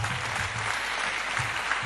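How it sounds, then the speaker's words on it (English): A short ripple of applause from home fans at a men's table tennis match, steady crowd clapping heard alone without talk. "This is better from Kallberg, as evidenced by the ripple of applause from the home fans."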